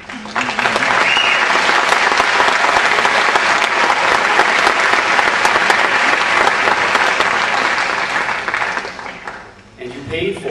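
Applause fills a school auditorium in a sustained, dense wash of many hands clapping, holding steady for several seconds before tapering off, with a voice briefly audible at the end.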